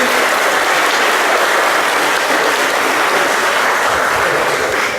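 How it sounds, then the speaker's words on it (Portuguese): A church congregation claps for the children, a loud, even wash of applause that holds steady throughout without fading. "vamos dar uma salva de palmas para as crianças"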